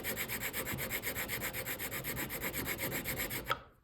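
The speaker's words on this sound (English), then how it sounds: "you're just gonna set this down and grind away just like that" A hand file grinds down a P365 pistol polymer grip module in fast, regular back-and-forth rubbing strokes, close and steady, ending abruptly.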